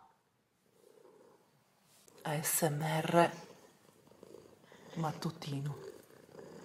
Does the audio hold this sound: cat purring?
yes